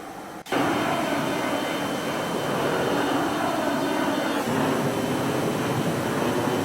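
Jet aircraft engine thrust in the X-Plane 10 flight simulator, a steady loud roar that starts abruptly after a brief quiet moment and holds with little change, a slight shift near the end.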